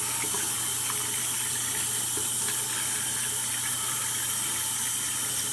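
Running water pours steadily from a tap while a dirty kitten is bathed, a constant moderate hiss with no clear breaks and no talking.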